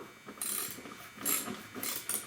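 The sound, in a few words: ratchet tightening bolts on a Camaro show bar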